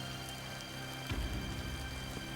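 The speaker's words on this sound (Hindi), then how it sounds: "ये बारिश," Steady rain patters on a surface, a constant hiss with a few heavier low thumps partway through, no voices.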